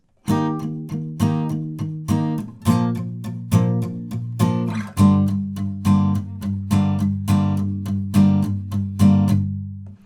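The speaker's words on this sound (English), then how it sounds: "for the strumming pattern of this pre-chorus, we have 8 down strums that are palm muted" Acoustic guitar pre-chorus for a song, struck with a run of eight palm-muted down strums. The strums are steady and evenly spaced, each a short, clipped chord with a bass-heavy accent, played alone.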